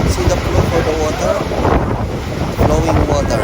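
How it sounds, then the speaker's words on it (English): Rainwater running along a road during a rainy spell in Saudi Arabia, heard as a steady rushing wash mixed with wind noise on the microphone, with someone talking intermittently over it. "See the flow for the water?"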